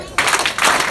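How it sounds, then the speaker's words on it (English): An audience at a community performance claps twice on cue: two quick bursts of many hands, close and loud, about half a second apart. "Clap twice."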